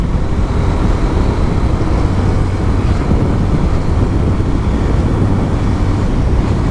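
A GPX Demon motorcycle being ridden, its engine a dense continuous low rumble smothered by heavy wind buffeting on the microphone, loud and unbroken throughout.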